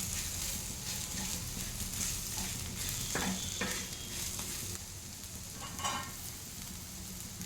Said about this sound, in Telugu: ఒక స్పూన్ కారం వేస్తున్నాం ఇది ఇంకొంచెం ఫ్రై చేయాలి